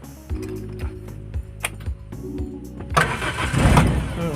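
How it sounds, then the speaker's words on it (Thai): A starter motor cranks with a steady rhythmic whirring, then an old Mazda Familia car engine catches on the first try and roars into a rough, loud idle. "เดี๋ยวลองสตาร์ทฟังเสียงสักนิดนึงก่อน"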